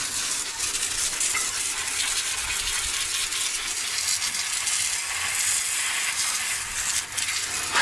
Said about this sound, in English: after I get the engine sprayed off, we'll spray some more of this frame and junk.